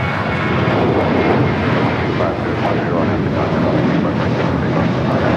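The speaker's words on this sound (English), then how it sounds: "United Airlines 1147 taking off to Bozeman on the 737-800" A United Airlines Boeing 737-800 roars down the runway on takeoff at Los Angeles airport, a loud, continuous broadband jet rumble that holds steady throughout with no pauses.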